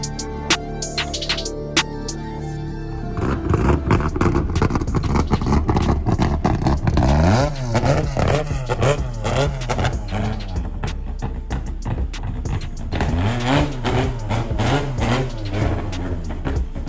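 A race car runs on a dyno, idling unevenly at first, then revving hard through several loud rising and falling pulls, with a high whine on top and clattering bursts between them.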